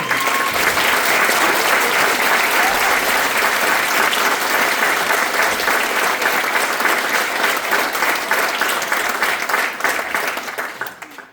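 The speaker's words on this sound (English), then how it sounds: "how about a wonderful round of applause for the great speakers?" A graduation audience claps warmly for the speakers in a long, even wave of applause that thins out and fades at the close.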